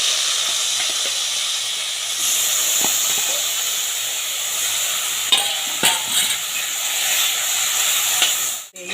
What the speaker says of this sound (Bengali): সবারই প্রথমে আমি বেগুনটাকে একটু ভেজে নেব